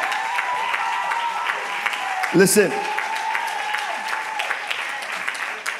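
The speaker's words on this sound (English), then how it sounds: "Come on, clap your hand for this woman" A church congregation claps steadily and loudly throughout, with a voice speaking over the applause and a brief louder burst midway.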